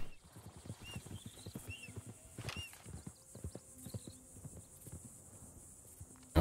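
Several horses walk slowly in Red Dead Redemption 2, their hooves clopping unevenly and fairly faint amid quiet outdoor ambience, with a couple of soft whinnies and snorts and a sudden bump at the end.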